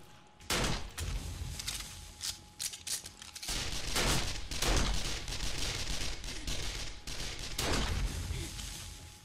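Bursts of rapid gunfire crackle in quick volleys in the video game 7 Days to Die, some short and some sustained, loud and close with no talking.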